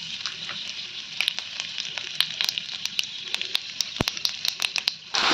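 Dry red chillies, whole cumin and bay leaves spitting in hot oil for a jackfruit and prawn curry, giving a steady close crackling sizzle with sharp pops scattered throughout, no voices.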